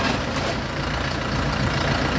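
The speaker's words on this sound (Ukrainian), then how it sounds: "Трактор 24-го року, свіжесенький." A 2024 Orion JD504R tractor with forced hydraulics and an 8x8 reverse gearbox idles steadily, its low engine rumble continuous and close throughout.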